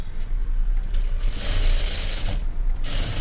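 A sewing machine stitches a blouse seam, its motor whirring in steady bursts with brief pauses between runs of stitching, close and fairly loud with no talk.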